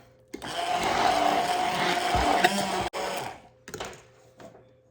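A countertop blender, a smaller model rather than a Vitamix, whirs loudly for nearly three seconds while mixing egg yolks with baking powder, then cuts off, followed by a short second burst.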